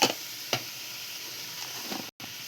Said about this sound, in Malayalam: ഉള്ളി നല്ല വഴറ്റി വന്നിട്ടുണ്ട്.